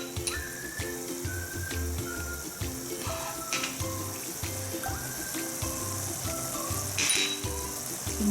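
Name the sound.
spices sizzling as they are added to a frying pan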